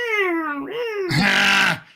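A cat meows loudly at a door, a long drawn-out cry that rises into a harsh, strained wail before breaking off, close and alone.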